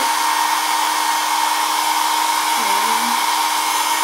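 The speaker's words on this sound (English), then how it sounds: "Just let this hair dryer dry it out." A hair dryer running on its lowest setting, 1, gives a steady, close, loud airy whoosh with a constant whine, unbroken for the whole stretch.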